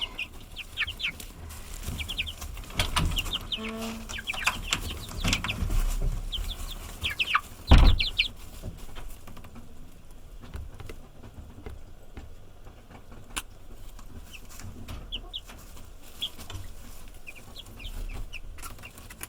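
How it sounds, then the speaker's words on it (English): Baby chicks in a coop give scattered, faint high peeps and chirps over quiet background noise, with one brief thump near the middle. "I just transferred the 6 oldest chicks into the coop behind me"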